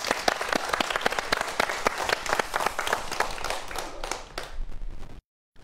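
An audience applauds a lecture, with dense, steady clapping from many hands filling the hall for about five seconds before it stops abruptly.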